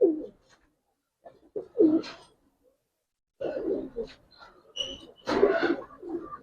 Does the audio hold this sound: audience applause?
no